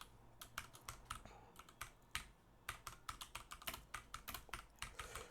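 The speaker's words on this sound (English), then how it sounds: "my typing speed is not that good, so I have to look at the keyboard now and then" Someone types Python code on a computer keyboard, producing steady bursts of close, crisp key clicks with brief pauses between runs, alone over a faint background hum.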